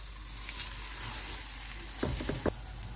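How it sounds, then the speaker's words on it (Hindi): A mooli paratha frying in ghee on a hot tawa gives a soft, steady sizzle, with a few sharper crackles and spatters near the end. "अब इसके ऊपर हम घी लगा लेते हैं और इसके ऊपर पराठा डाल देंगे।"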